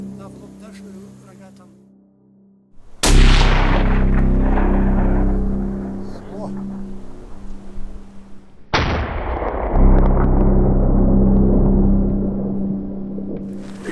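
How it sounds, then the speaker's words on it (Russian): Two loud rifle shots crack out several seconds apart during a trophy hunt for wild yak in the Karachay-Cherkessia mountains, each with a long rolling echo fading behind it; a voice murmurs faintly before the first. "хороший выстрел, попал."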